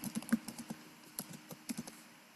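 Quiet, close keyboard typing on a computer while a city is entered into a shipping address, with an irregular run of soft key taps and a brief pause in the middle.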